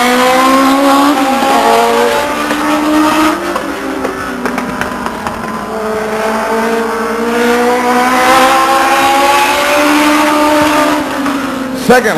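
A Legends race car circles Stockton 99 Speedway on a qualifying lap, its engine droning loudly with pitch sweeping up and down through the corners, alone and steady throughout.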